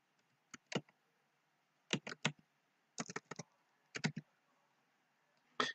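Keys tapped on a computer keyboard in short bursts of quick clicks separated by pauses, close and fairly quiet, with no talking.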